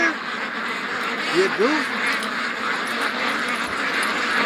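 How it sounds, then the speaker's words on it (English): Muscovy ducks on a morning outing quack in a short burst of two or three calls midway through, set against steady outdoor background noise while a person talks nearby. "Oh, we got a Muscovy flying, guys."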